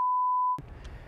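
A single steady censor beep tone sounds alone for about half a second, then cuts off abruptly into faint background noise and murmuring on a golf course.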